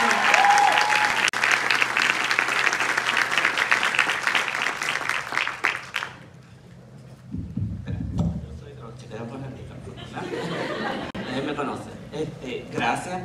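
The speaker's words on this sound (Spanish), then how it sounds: "Un fuerte aplauso" Loud applause from a crowd at a nursing capping ceremony in Arecibo, Puerto Rico, fills the first six seconds, then fades into quieter murmuring and scattered noise.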